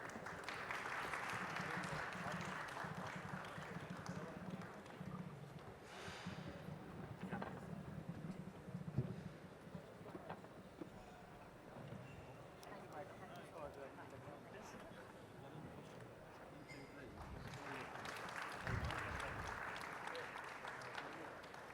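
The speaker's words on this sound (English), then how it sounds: "A round of applause, please, ladies and gentlemen." Audience applause fills a conference session hall at a municipal water and wastewater management event, steady and moderately loud across the room, swelling again near the end, with voices mixed in underneath.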